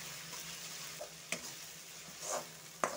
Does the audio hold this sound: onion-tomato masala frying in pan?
yes